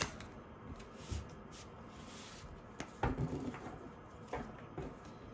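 Soft, papery riffling and light taps of tarot cards being shuffled in short bursts, close by in a quiet room.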